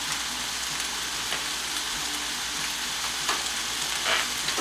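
Ribeye steak and bacon sizzling without oil in a new granite stone pan, a steady, soft crackling fry with scattered pops, heard close and alone.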